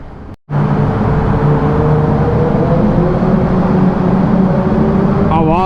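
Motorbike engines roar continuously inside a road tunnel, a loud, dense, echoing drone that holds steady throughout after a brief dropout near the start.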